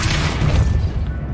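A Depulso spell is cast in the Hogwarts Legacy video game, a single deep, rumbling boom that lasts about a second before trailing off.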